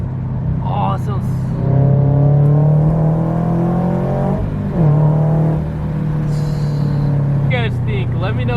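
A 2022 Subaru BRZ with aftermarket headers rumbles and revs up and down in a steady throaty drone, with talking mixed in over the engine.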